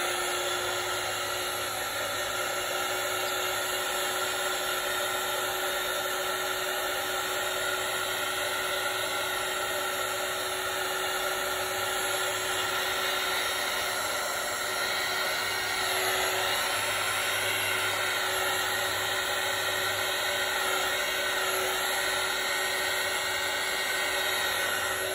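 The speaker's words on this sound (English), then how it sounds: "gotta put the heat on it one more time" A heat gun blows hot air over a wet acrylic Dutch pour painting in blue, magenta and metallics, producing a constant loud whirring hiss that runs unbroken for the whole stretch with no voices.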